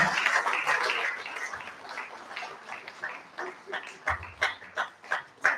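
An audience applauds, a dense burst of clapping that thins into scattered, separate claps toward the end.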